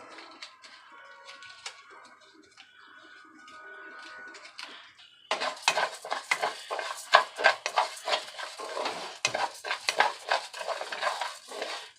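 Rice browning in a pan for Spanish rice. A quiet sizzle gives way to brisk stirring, with repeated close scraping and clinking of a utensil against the pan and no talking.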